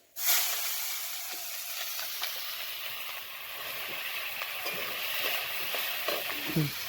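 Black cumin and chopped onion hit hot oil with bay leaf and dried chilli, giving a steady, close, continuous sizzling hiss with faint scattered crackles and a few soft stirring knocks, and no talk.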